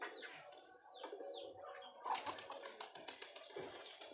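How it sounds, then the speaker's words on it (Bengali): Pigeons around a rooftop pigeon house coo softly and faintly, with a few short calls and a brief flutter amid quiet outdoor ambience. "উপরে দেখুন ওইখানে রয়েছে পায়রাগুলো।"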